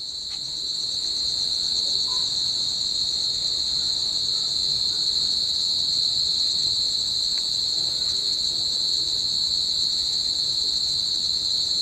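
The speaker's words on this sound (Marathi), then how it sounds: "रातकिड्यांचा आवाज येत असेल प्रॉपर" Crickets chirp at night in a village in a steady, unbroken high trill that fills the whole stretch, loud and constant with no other sounds.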